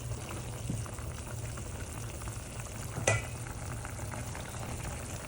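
Curry of hilsa and eggplant coming to a boil in a pot makes a low steady bubbling and hiss, faint and continuous, with one brief clink partway through and no talking.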